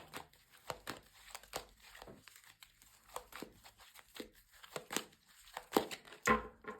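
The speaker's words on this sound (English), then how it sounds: "So a good shuffle." Quick bursts of papery riffling and slapping as tarot cards are shuffled, repeated several times in an irregular rhythm, close by with no talking.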